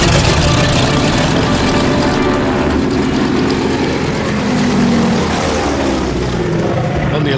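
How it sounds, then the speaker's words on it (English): Droning engines of Japanese bombers flying toward the island of Penang in 1942, a loud, steady, dense roar that holds unbroken throughout with no talk. "Japanese bombers headed for the island of Penang"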